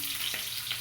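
Garlic and onion sizzle and crackle steadily in hot oil in a pan for ginisang kangkong, a continuous close frying hiss with faint stirring.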